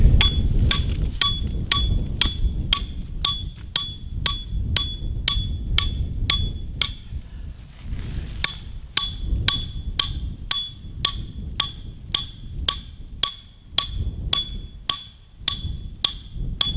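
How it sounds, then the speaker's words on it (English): Stake driver pounding a steel earth anchor into the middle of a dirt trap bed for mountain coyote trapping: a long, steady series of sharp metallic clanks about once per second, close and loud, with a brief pause midway. "I'll take our stake driver and put it on our anchor and drive it right down the middle of the trap bed"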